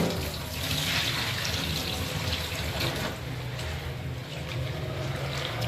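Masoor dal lentils being washed in water, with a continuous close sloshing, running-water wash and no talk.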